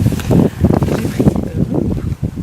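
Strong wind buffets a handheld microphone outdoors in Berlin, producing loud, low rumbling gusts that surge and fade continuously without any voice.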